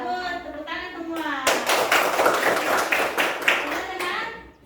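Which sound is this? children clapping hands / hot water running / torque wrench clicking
children clapping hands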